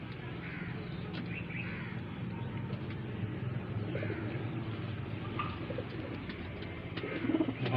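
Highflyer pigeons coo softly in a crowded loft in Bareilly, faint low murmurs under steady background noise, with occasional chirps and a slightly louder burst near the end.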